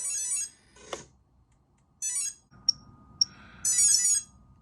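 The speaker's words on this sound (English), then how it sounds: "until I hear the boop on the ESC" Electronic speed controller on a Roban Pave Hawk RC helicopter sounding calibration beeps: several short bright tone bursts and a few sharp single blips, fairly loud, with quiet gaps and a faint hum between them.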